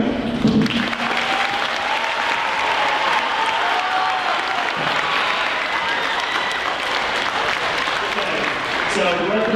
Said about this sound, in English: can we all give him one more big round of applause?